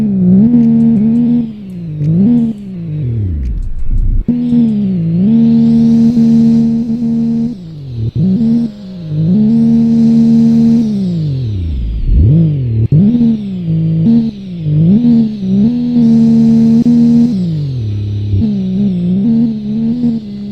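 A car engine fires up close by and loudly, then revs up and down repeatedly, with brief drops between the surges and a rising and falling drone throughout.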